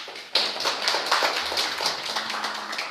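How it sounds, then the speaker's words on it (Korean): Audience clapping at a Korean policy forum on firefighter funding, starting abruptly and continuing as a bright, steady patter of many hands, fairly close and loud, with a faint low hum in the background. "박수 한번 주십시오"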